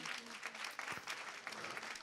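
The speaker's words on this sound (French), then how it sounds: "On peut l'applaudir très fort." Audience applause at a conference on Shetland ponies: a continuous, fairly faint patter of many hands clapping together, with no voices over it.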